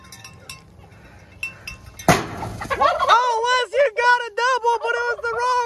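Farm chickens heard close up: a few faint clucks, then a sudden loud flapping burst followed by a run of shrill, wavering squawks and cackles, with people talking nearby.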